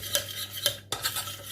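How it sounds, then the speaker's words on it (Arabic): A utensil stirs melted chocolate in a metal saucepan, scraping and clinking against the sides in a steady rhythm of soft strokes with brief metallic taps, close and fairly quiet with no voices. "ودرت الكاسرون خلطت فيه الشكلاط"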